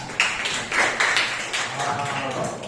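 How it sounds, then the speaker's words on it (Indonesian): A classroom of students clapping together in a short rhythmic pattern, distinct sharp bursts close by, with a voice speaking briefly over the claps. "Kasih tepuk tangan"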